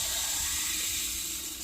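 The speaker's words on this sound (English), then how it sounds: "You can hear the water running." Water rushing steadily through a freshly repaired water line that has just been turned all the way on, a dense continuous hiss holding at an even level and easing slightly at the end, with no voices.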